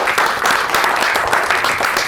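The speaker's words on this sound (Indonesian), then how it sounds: "Boleh sekali lagi kawan-kawan kita tepuk tangan sama Dr. Brija." Audience applause for a doctor at an Indonesian talk event, a dense, steady burst of many hands clapping that stays loud and close for the full two seconds with no pause.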